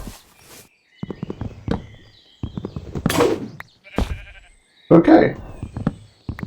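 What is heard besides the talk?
sheep bleating in Minecraft video game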